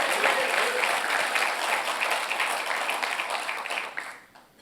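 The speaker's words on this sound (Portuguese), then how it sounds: "Glorifica o Senhor aí com as suas palmas" A church congregation claps steadily in a dense, sustained wash of applause during a Portuguese-language worship service, fairly loud throughout before thinning out near the end.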